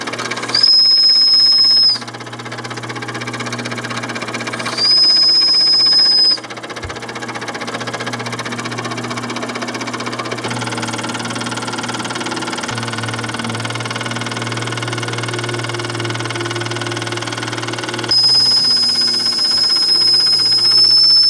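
A small steam engine runs steadily, its continuous mechanical chug and hiss joined by bursts of a high whistle near the start, middle and end, fairly loud and alone without voices.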